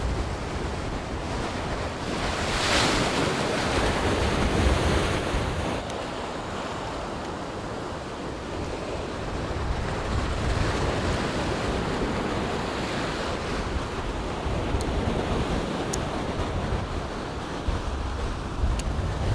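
Sea waves surge into a rock pool on a Gujarat beach, making a constant loud roar and wash with wind noise that swells and eases over time, and no voices.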